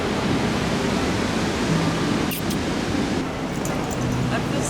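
Steady broadband roar of ocean waves on an Australian beach during a walk, loud and continuous with wind-like wash and a few faint background sounds.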